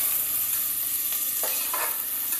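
Onions and fresh curry leaves sautéing in a pan for mutton kulambu give a brief, steady sizzle, with a few soft scraping stirs near the end.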